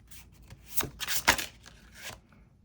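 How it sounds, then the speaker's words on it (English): Tarot or oracle cards, hard to shuffle, are riffled and shuffled in several short, crisp bursts, close by and fairly quiet, with no talking. "These cards are so hard to shuffle, for my hands anyway."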